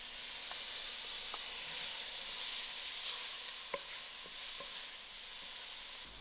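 Tomatoes sizzle in a hot pan with spices for a spicy dhal pitta with peas, a bright continuous hiss with occasional light clicks and scrapes of stirring, steady and close, with no talking.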